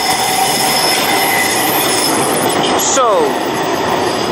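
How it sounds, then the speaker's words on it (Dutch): An Amsterdam tram passing at night beside a canal, loud rolling rumble with a brief high wheel squeal near the end; a voice speaks a single short word. "Er komt even een metro langs, ik weet niet of wel tram bedoel ik."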